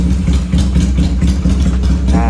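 A Benelli 250 twin-cylinder motorcycle engine with a free-flow exhaust idling loudly up close, a steady throbbing exhaust rumble with an uneven pulsing beat.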